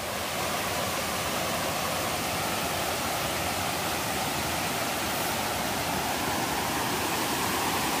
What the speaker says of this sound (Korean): 물소리가 엄청나네